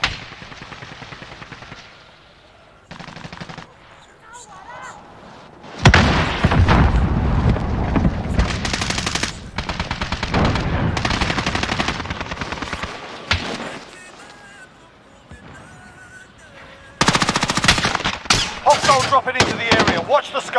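Video game battle with heavy gunfire, machine-gun bursts and booming explosions in loud repeated waves, broken by short quieter gaps, with brief game voice callouts in between.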